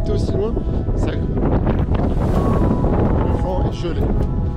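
Cold wind on Mont Vial, a mountain above Nice, buffeting the microphone as a loud, continuous roar while someone talks in French throughout.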